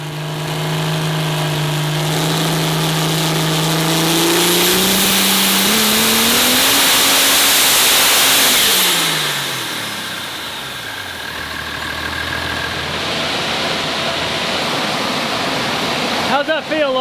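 A diesel engine built for over 3,000 horsepower roars loud and steady on a dyno, pitch climbing through a hard pull before dropping back to a lower rumble.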